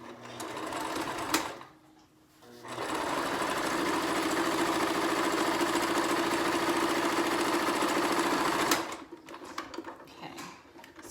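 A sewing machine stitches a seam on a homemade fabric face mask, running steadily and close for several seconds between brief pauses at the start and end.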